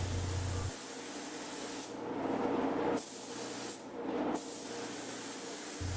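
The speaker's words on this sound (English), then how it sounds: "Spraying clear is probably the most fun part of the job" A spray gun lays clear coat onto a car with a continuous airy hiss, swelling and easing across several passes and pausing briefly between them, close and alone without any talking.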